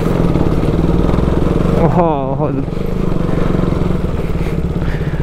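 A motorcycle engine runs steadily while riding off-road on a rough track, its close mid-pitched drone continuous throughout, with a short exclaimed voice breaking in partway.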